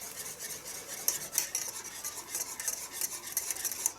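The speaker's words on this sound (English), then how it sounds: "And you just stir that in there." A utensil stirs vanilla into an apple caramel-pecan pie topping mixture, quiet rhythmic scraping and clinking against the pan with a faint sizzle, no voices.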